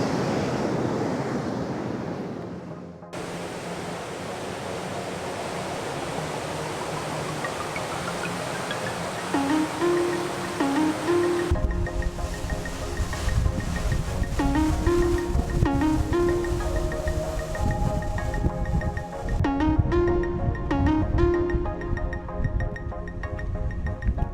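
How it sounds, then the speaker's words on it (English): Large ocean waves crash against lava rock along the shore at Ka'ena Point on Oahu, a continuous roaring surf with wind noise, joined partway through by a melodic musical line playing over the rushing water. "Now we come to the part of the trail where you can see massive waves crash"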